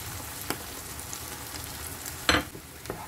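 Tomato paste sauce with grated tomato, salt and spices sizzles in a pan for cauliflower with minced meat, a steady frying hiss under occasional scraping stirs, one sharper clatter of the spoon near the end.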